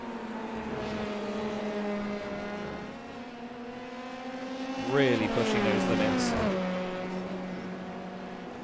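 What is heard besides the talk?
sim racing video game cars scraping and bouncing over curbs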